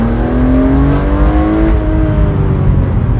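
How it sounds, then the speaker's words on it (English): An E46 BMW M3 engine revs loudly close by, its pitch climbing steadily as it accelerates through the gears, then settling into a sustained throaty drone. "once you get your foot on that throttle and those revs just increase"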